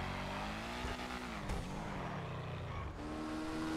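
A car in GTA Online accelerates hard, its engine note climbing and shifting steadily over a constant roar, close and fairly loud with no voices.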